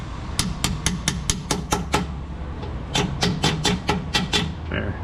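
A ratchet swung as a hammer strikes metal during driveshaft work, sharp ringing bangs in two quick bursts of about seven blows each, loud and close over a low engine hum.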